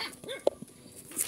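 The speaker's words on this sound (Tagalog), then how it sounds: "May mga aso." A couple of short dog barks and yelps nearby, brief and sharp, with faint chirping in the background.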